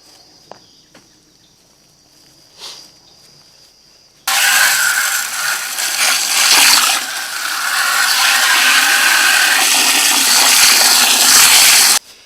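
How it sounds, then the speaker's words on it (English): Water pours into a container of Cherokee Purple heirloom tomato seeds in a strong, steady rushing stream that starts abruptly after a few quiet seconds, lasts about eight seconds, then stops. "put some more water in it right quick."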